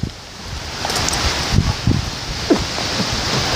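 Strong wind blows outdoors, a steady broadband roar buffeting the microphone with rustling gusts and occasional thumps, loud and continuous throughout.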